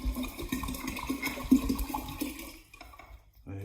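Five litres of water poured straight into a Pinter brewing keg for a Bigmouth Remixed IPA, a steady gurgling, splashing flow close by that tapers off, then a brief clunk at the end.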